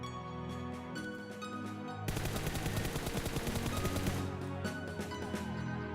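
Gunfire in PUBG Mobile, starting with a couple of scattered shots and then a rapid automatic burst of closely spaced, loud reports that lasts several seconds before a few final shots.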